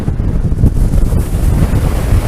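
Heavy wind pounds the microphone at the Southsea sea wall in a 50 mph storm. The buffeting is loud and steady, rumbling with rough low-end gusts, and no one speaks.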